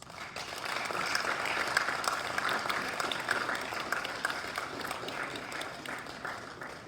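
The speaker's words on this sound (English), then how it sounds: "Please give these students a round of applause." An awards-ceremony audience applauds students with steady, dense clapping that fills the hall evenly from start to finish and slowly tapers near the end.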